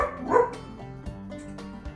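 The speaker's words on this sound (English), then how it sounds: "And my dog is barking." A dog barks once, close and fairly loud, followed by a few quieter soft yips and thumps in a home kitchen setting, with no talking.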